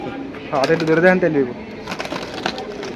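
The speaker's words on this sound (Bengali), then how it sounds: "খুব সুপার কোয়ালিটি খুব সুন্দর কবুতর" Pigeons at a pigeon sale cooing in a short, warbling burst close by, followed by quieter shuffling and rustling sounds.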